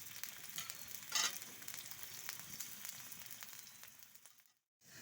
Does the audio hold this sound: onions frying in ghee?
yes